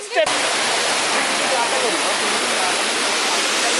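A loud, steady roar of Areekkal waterfalls fills the whole clip, a dense continuous rush of water with a brief voice at the very start.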